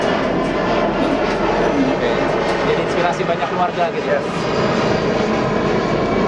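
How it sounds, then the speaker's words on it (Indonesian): An airplane passes overhead at an outdoor family event in Bali, a loud, steady engine roar filling the whole stretch while people keep talking underneath it. "Tunggu pesawat lewat dulu ya"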